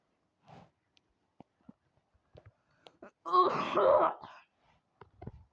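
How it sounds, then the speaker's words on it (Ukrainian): A single rough cough or throat-clearing rasps up close, surrounded by quiet room noise and small handling sounds. "Не кашляй."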